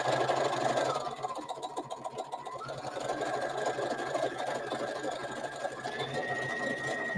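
A sewing machine runs fast and steadily while stitching a fabric travel storage bag, a loud, close mechanical whir with a rapid even rattle of the needle and a slight change in pitch partway through.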